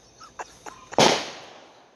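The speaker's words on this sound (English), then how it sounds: "fireworks" Fireworks go off nearby: a few small crackling pops followed by one sharp, loud bang with a trailing echo, heard alone in a short burst.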